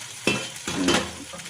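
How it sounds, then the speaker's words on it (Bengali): Onion and poppy seed paste is stirred and fried dry in a pan, with scraping strokes of a spatula over a steady soft sizzle, close up and without talk. "আর একটু ভাজা ভাজা করে নেবো যতটা শুকনো শুকনো ভাজা ভাজা করা যায়"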